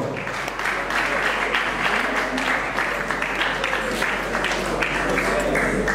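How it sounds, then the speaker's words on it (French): A crowd at an African comedy and arts awards festival applauds as a representative is called to the podium, loud dense clapping over a low electrical hum, continuous throughout. "Sur vos applaudissements."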